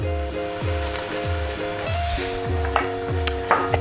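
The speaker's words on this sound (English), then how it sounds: "So our onions and our chilli are starting to brown nicely." Onions and chilli browning in a pan for a bean minestrone, with an even sizzle and a few stirring clicks under a repeating low tonal hum.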